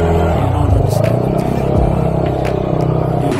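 A tuned 215cc motorcycle engine revs up and falls back several times during a test, close and loud with a rough rumbling tone and steady idle between rises.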